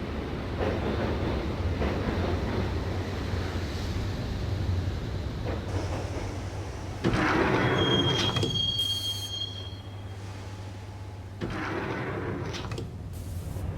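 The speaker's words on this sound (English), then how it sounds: "the train doors had already shut behind me, and I was in for the ride" Train ride in the Max Payne game: steady, loud rumble of wheels on rails with a high, sustained metallic squeal partway through, and the rolling noise swelling and easing in stretches, with no voices.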